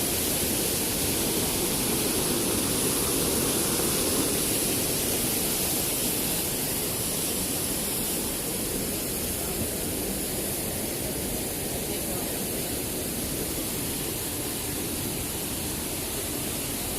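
Kuang Si waterfall in Laos roars as a steady, broadband rush of falling water that stays constant and loud throughout, with no voices.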